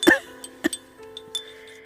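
A woman gives a few short, sharp coughs close by, the first loudest, followed by quieter throat sounds in a spoken drama scene.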